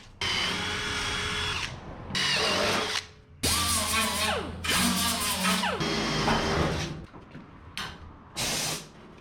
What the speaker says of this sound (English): we're gonna get all of our holes for riveting in this bottom done, and then the ones for the top for plug welding